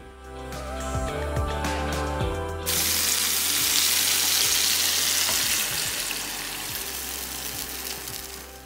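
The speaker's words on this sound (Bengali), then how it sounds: "এখন তেলের মধ্যে সব মাছগুলো একে একে ছেড়ে দিয়ে যেটুকু মশলা ছিল সেই মশলাটুকু" Hilsa fish pieces and leftover spice paste frying in hot oil in a kadai, a loud dense sizzle that bursts in partway through after a stretch of clinking and water sounds, then settles into a steady crackle.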